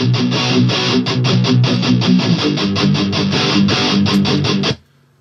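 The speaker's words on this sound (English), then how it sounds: "just a very aggressive rock guitar, and that sounds like this" Heavy, aggressive rock guitar plays alone, loud and distorted, chugging in a driving rhythm with dense repeated strokes for almost five seconds before cutting off abruptly into near silence.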